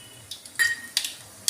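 Spices tempering in hot oil for rasam, scattered bright crackles and sizzling pops in a few short bursts, close and fairly faint.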